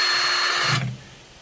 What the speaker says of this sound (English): you just take a drill with a metal drill bit and you drill through